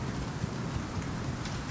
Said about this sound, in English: Bit of rain and wind, so we should be alright.